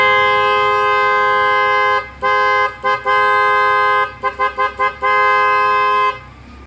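A PIAA loud horn fitted to a Bajaj RE blares a rich, steady multi-tone blast for about two seconds, then sounds a few short toots and a quick rapid series of honks before a final long blast, loud and close.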